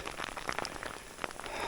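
Heavy rain drums steadily on waterproof clothing during a wet, windy summer wild camp on Bleaklow in the Peak District, a dense, continuous close-up patter with scattered louder drops.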